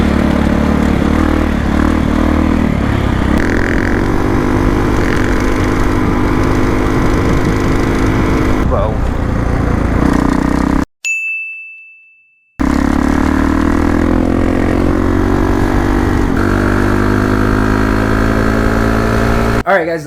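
A dirt bike engine idles steadily and loud, a droning buzz with harmonics, cuts out abruptly for about two seconds with a brief tone, then resumes idling; voices may be faintly present.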